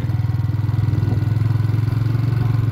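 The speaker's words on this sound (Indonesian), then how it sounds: "Motor saya kuplingan ini padahal." Manual-clutch motorcycle ridden slowly through a village transmigration area near Yogyakarta, its engine a steady low, pulsing drone held close and continuous throughout, with no speech over it.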